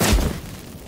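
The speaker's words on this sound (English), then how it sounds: "Get ready for some magic fireworks." A low, muffled boom of magic fireworks set off by incense in the video game Witcher 3, a single short burst at the start that fades quickly.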